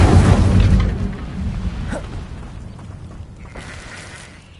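Incendio fire spell from Hogwarts Legacy going off as a loud burst, a whooshing fiery boom at the start that rumbles and fades over several seconds, with a smaller crackle near the end.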